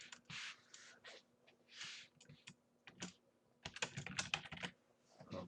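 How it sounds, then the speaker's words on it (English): Loud, clattering keyboard clicks from a participant on an online call, in irregular bursts, some rapid flurries of keystrokes, close and dry with quiet pauses between. "somebody back there is really clicking really loud"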